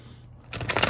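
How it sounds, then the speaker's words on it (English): A deck of tarot cards is shuffled close by, a brief silence giving way to a rapid, crisp riffling flutter that grows louder. "My God, I love shuffling these cards."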